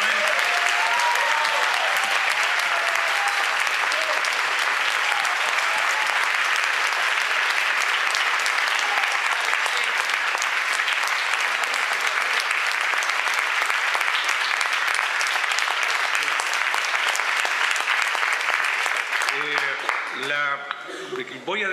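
A large audience applauds steadily for two performers, a dense, loud wash of clapping that holds for about twenty seconds before thinning out as a voice begins to speak near the end.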